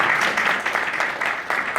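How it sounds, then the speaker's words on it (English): An audience giving a round of applause at a gathering, a brief burst of many hands clapping steadily and fairly loud throughout, with no voices over it. "Give her a round of applause again."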